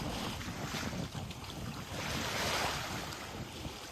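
Ocean waves wash along a beach in Davao Oriental, a continuous soft rush of surf mixed with wind buffeting the microphone, fairly faint and with no one talking.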